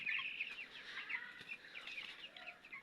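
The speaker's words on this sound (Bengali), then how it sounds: "আজকে মুরগির বয়স হচ্ছে 11 দিন চলে" Eleven-day-old broiler chicks on a poultry farm peep and cluck quietly in overlapping, steady chatter, somewhat distant and faint, with no talking.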